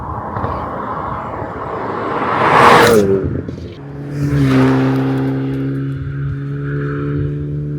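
A Hyundai Veloster N engine revs hard in N mode above 4,500 RPM, rising to a roar, then drops off with factory popping exhaust crackles before settling into a steady, droning idle.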